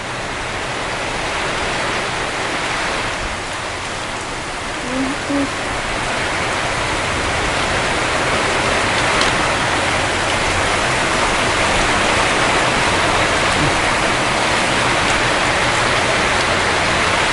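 Steady rain pours down outdoors during a Thai home cooking session of papaya salad with snails, bamboo shoots and bitter mushrooms, a dense hiss running throughout with voices faintly under it.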